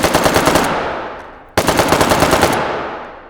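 Two loud full-auto bursts of weapon fire in the VR shooter H3VR, each a rapid string of sharp shots lasting about a second, separated by a brief gap, with no voices.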